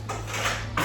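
Metal dishes and utensils clink and clatter while being washed at home, a short, close burst of scraping and knocking that grows louder near the end, with no talk.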